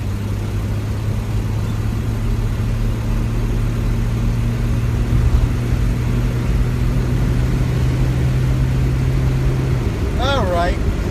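A 1968 Ford Mustang with a 200ci inline-six runs steadily while driving, a low engine drone carrying a faint ticking throughout, until a voice cuts in briefly at the very end.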